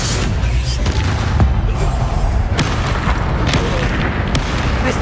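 Bombarda blasting spell explosions in Hogwarts Legacy, heard as dense, loud, continuous booms and crackling bursts within a chaotic battle mix, with occasional faint voices.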